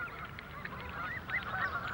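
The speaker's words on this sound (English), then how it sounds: "That's what happened with Canada geese" Canada geese honking in an urban London park, a loose flock calling repeatedly in a steady overlapping chorus of nasal honks over low background rumble, fairly close and clear.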